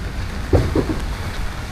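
Heavy monsoon rain pours down in Mumbai as a steady, dense hiss close by, with a couple of soft low bumps in the brief stretch.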